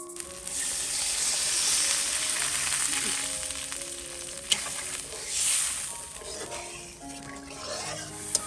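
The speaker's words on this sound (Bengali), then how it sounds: "একটু ভালো করে মিশিয়ে দিচ্ছি, একটু ভেজে নেবো, তারপরে দেবো মশলা।" Bhetki fish with spices sizzles and fries in a pan, a steady close hiss with occasional stirring clinks, and a voice briefly in the background.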